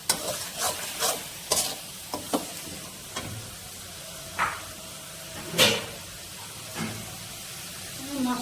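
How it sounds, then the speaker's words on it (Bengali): Mutton masala is stirred and fried in a pan, a low background sizzle broken by repeated scraping strokes of a spatula against the pan, spaced irregularly at close range. "এবার মশলাটাকে আমি ভালো করে কষিয়ে নেব।"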